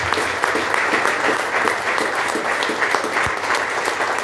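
A church congregation applauds newly instituted ministers at a Sunday Mass, dense sustained clapping filling the space evenly from start to finish with no voices above it.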